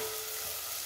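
Spinach and beans curry fries in a pan with salt, giving a brief, faint, hissing sizzle with no voices.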